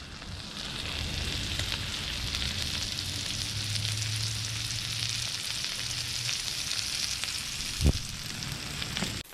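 Smashburger patties and onions frying on a Blackstone griddle, a steady close sizzle and crackle of hot grease throughout with one brief scrape or knock near the end, no talking.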